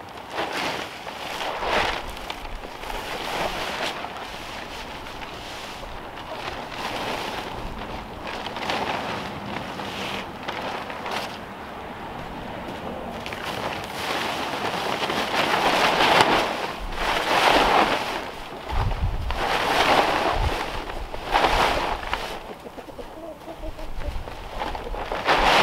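Gusty wind roars and buffets the microphone outdoors while a tarp goes onto a quail shelter. The surging rush comes in waves, with faint rustling beneath it.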